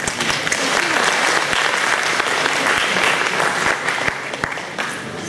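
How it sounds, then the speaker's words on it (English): Sustained, dense applause from a dinner audience at a Vedanta Centre gathering in Brisbane, honouring those who helped prepare the meal; steady and loud throughout, easing slightly at the end. "I thank them sincerely and applaud them"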